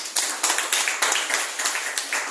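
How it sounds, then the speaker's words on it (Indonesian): Congregation at a church service clapping hands in unison for God, a series of rhythmic, evenly spaced group claps, fairly loud and close, with no talk over them. "Tepuk tangan bagi Tuhan"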